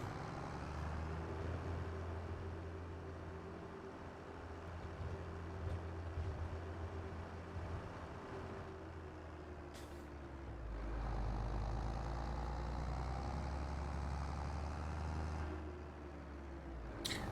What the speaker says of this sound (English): this tractor seems to handle better